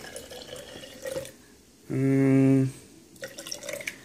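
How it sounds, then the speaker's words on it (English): Warm water is dumped into a jar of tomato seeds in one short, resonant pour lasting under a second, with quieter handling and rustling noises before and after. "you just want to get your warm water and kind of just dump some in there"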